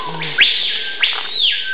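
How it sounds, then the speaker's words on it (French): Screaming piha, the Amazon sentinel bird known as paipayo, gives two loud rising-and-falling whistled calls close by in rainforest, each a ringing sweep upward then down, spaced about half a second apart. "C'est le fameux oiseau sentinelle, le paipayo. C'est un cri qu'on entend mais quasiment partout en Amazonie."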